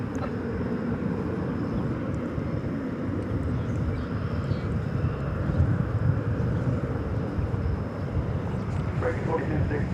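Airbus A321 jet arriving at DFW Airport at dawn, a steady, fairly distant engine roar running evenly throughout, with a voice talking over it.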